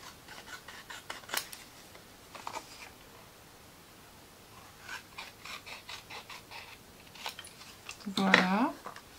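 Scissors cut through paper in short, soft snips spread in small irregular clusters, quiet and close, with a brief louder sound near the end.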